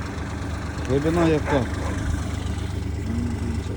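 A low tractor engine drones steadily underneath while someone speaks briefly over it, during ploughing of a field.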